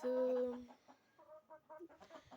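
Chickens cluck and murmur in a henhouse in the evening, with one long, loud drawn-out call up close, then a run of shorter, softer clucks.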